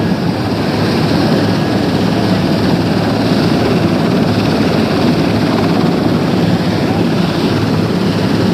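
A helicopter carrying the presidential party in 1963, heard from inside as a loud, steady, unbroken drone of rotor and engine that holds at the same level throughout, with no talking.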